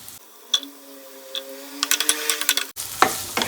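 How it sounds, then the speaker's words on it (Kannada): Chopped onions go into hot oil in a pan. A soft clink comes first, then a steady sizzle of frying builds near the end after a quiet, faintly tonal stretch. "ಎಣ್ಣೆ ಸ್ವಲ್ಪ ಕಾದ್ಮೇಲೆ ಕಟ್ ಮಾಡ್ಕೊಂಡಿರೋ ಈರುಳ್ಳಿ ಹಾಕ್ಕೊಳ್ತಾ ಇದ್ದೀನಿ"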